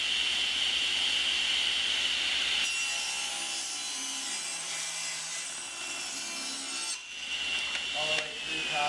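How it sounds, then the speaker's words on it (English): Table saw cutting a 15-degree bevel through maple for a desk sign, a steady high whine as the blade spins and bites through the wood, then the pitch shifting and dropping as the cut finishes, close and continuous. "sure the blade's going to be high enough to cut through this maple"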